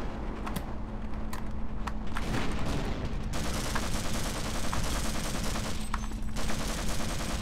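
Sustained automatic gunfire from the Half-Life game, loud and continuous, with rapid shots rattling over several seconds and sharp isolated bangs early on.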